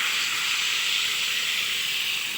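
Broth poured into a hot pan of spiced potatoes and plantains hisses as steam rises, a steady, loud, unbroken sizzle that holds evenly throughout with no voices.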